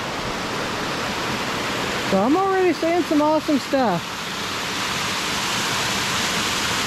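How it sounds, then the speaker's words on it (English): Waterfall in a Tennessee state park pours down a cliff into the river below, a loud, steady broadband roar filling the whole clip while someone speaks briefly in the middle. "I am thoroughly enjoying this waterfall."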